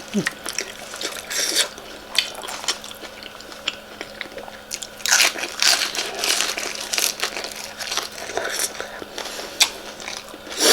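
Crunchy chewing of a Thai corn salad with fresh shrimp, crisp bites and crushing crackles coming close and repeatedly over several seconds, with brief talk in the background.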